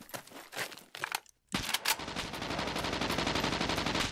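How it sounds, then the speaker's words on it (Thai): Gunfire in the video game SCUM: a few scattered shots, a brief silence, then a sharp burst followed by a long, rapid, steady rattle of automatic fire at close range, with no talk. "ผมเพิ่งได้ยินเสียงปืน"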